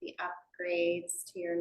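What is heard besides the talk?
None of the usual background noises is heard.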